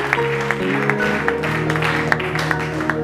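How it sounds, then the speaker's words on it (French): A church congregation at a Sunday service claps and cheers, a steady wash of applause with scattered sharper claps throughout, fairly loud and continuous, with faint voices mixed in. "Tu peux acclamer très fort."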